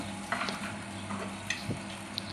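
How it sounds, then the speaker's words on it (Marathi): Spiced food frying in a pan as it is stirred, a soft steady sizzle with faint scraping and light clinks from the spoon. "फ्राय करत राहायच्या, त्याला 10-15 मिनटं हलवत राहायचे"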